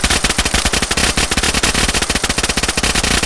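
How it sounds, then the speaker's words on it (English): Rapid, loud automatic gunfire in the video game DayZ, a steady stream of close shots with no pauses. "I'm getting shot at."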